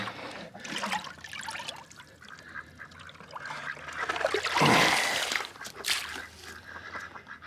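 Water splashes and gurgles as a bucket scoops into a thawed farm pond, with a louder slosh midway and ducks faintly honking nearby.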